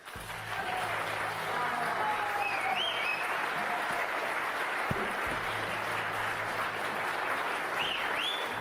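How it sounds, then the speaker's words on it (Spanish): Sustained audience applause following a speech at a forum, a steady dense roll of many hands clapping with faint crowd voices underneath, lasting the whole stretch. "fue largamente aplaudida por la totalidad de los asistentes al foro"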